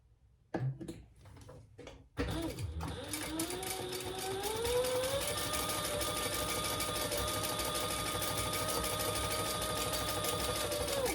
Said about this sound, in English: I'm just gonna add another row of stitching